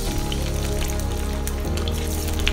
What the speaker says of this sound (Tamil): இந்த டோஃபு ஃபிஷை வந்து நல்லா பொன்னிறமாக நம்ம பொரிச்சு எடுத்துக்குவோம்